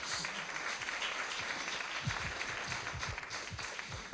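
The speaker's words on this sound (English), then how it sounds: "please, just clap your hands" An audience at a tourism forum gives a short, scattered round of applause, individual claps distinct and fairly distant at a low level, with a few sharper claps toward the end.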